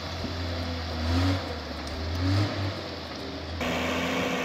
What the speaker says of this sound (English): working with the old snowmobile, equipped with a Magirus 6-cylinder 130 horsepower engine